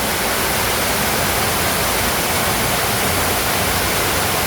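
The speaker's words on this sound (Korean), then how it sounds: "마치 폭포에서 흐르는 물소리 같네요." Water pours inside Gwangmyeong Cave, an old mine turned into a cave theme park, with underground spring water running like a waterfall: a loud, steady, even rush of broadband noise with no pauses and no voices.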